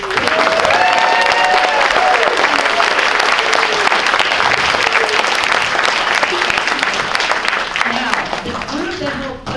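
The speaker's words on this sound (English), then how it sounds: "So another round of applause" Loud, sustained applause and some cheering from an audience after a performance by a group of residents, dense clapping throughout with voices calling out over it, easing slightly near the end.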